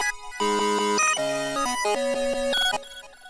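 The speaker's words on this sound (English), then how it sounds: "there's this like square wave type synth that I just made in Serum." A square-wave style Serum synth, shaped with Gross Beat and Valhalla Supermassive reverb, plays stacked chord tones in choppy stepping blocks that cut in and out before a washy tail.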